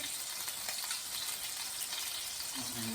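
Duck skin frying in oil until crispy, a continuous soft, even sizzle throughout with no pauses.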